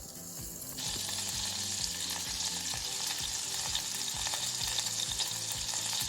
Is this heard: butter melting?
yes